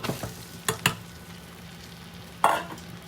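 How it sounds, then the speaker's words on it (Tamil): Mango ginger pieces fry in hot oil with chili powder for a spicy pickle, with a low steady sizzle, a few spatula knocks early on and a brighter burst of sizzling later, heard up close with no talking. "இப்போ இதில் இந்த மாங்காய் இஞ்சியை கொட்ட போகிறோம்."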